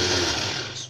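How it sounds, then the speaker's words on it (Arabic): Electric chopper grinding garlic with salt in a home kitchen, a loud, steady motor whir with a gritty buzzing edge that holds for about a second and then starts to fade, heard close and alone. "وهضرب التوم في الكبة بتاعتي"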